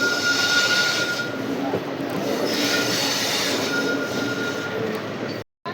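A train runs on rails near Jetalsar junction, with a loud continuous rumble and wheel squeal from on board, steady throughout before a brief cutout near the end.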